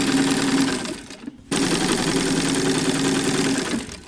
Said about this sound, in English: So I'm just going to sew my big gathering stitches with the tension turned down here